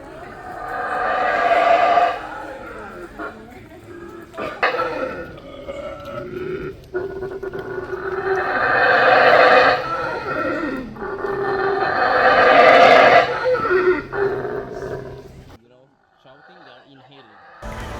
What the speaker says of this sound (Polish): Okazało się, że to howler monkey, czyli wyjec.